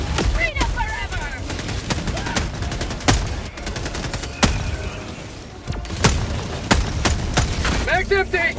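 Gunfire in Helldivers 2: sharp, spaced shots and short bursts crack through a busy battle mix while voices talk over the action.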